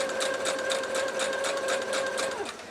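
A sewing machine stitches a Lone Star quilt, running steadily with a fast, even mechanical patter and a constant whirring tone, close and clear with no talking.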